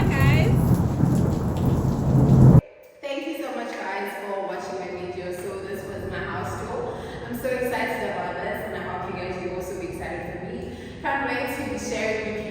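Steady rain hisses with rolling thunder, loud at first, then cutting to a quieter stretch of soft rainfall with occasional low rumbles in the distance.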